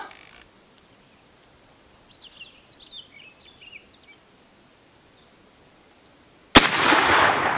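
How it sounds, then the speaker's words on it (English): A single sharp, loud rifle shot from a Winchester 1886 lever-action rifle cracks near the end, preceded by quiet outdoor ambience with faint bird chirps. "Take one more shot"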